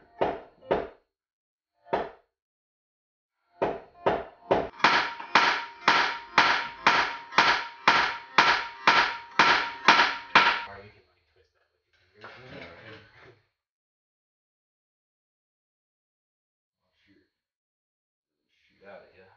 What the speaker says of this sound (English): And pop it with a hammer.